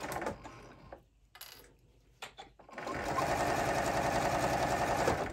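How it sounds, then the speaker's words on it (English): A sewing machine stitches a seam on a tote bag, starting with a couple of short bursts, then running in a steady, close, rapid mechanical whir to the end. "I'm sewing this along this line, making sure I'm just doing it just as close to the edge as I can get."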